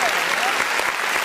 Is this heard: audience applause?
yes